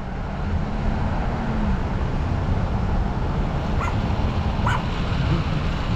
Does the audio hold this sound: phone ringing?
no